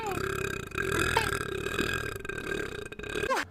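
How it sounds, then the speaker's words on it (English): A long, loud, deep burp rolls on for several seconds close to the mic, warbling in pitch before ending in a short rising gurgle. "I'm a burping machine."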